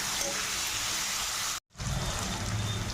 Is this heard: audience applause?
no